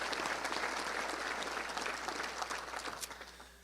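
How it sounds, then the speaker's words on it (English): A luncheon crowd at a touchdown club gathering in Little Rock gives a round of applause, dense clapping that holds steady and then fades toward the end, heard at a moderate distance. "Matt, let's give him a round of applause."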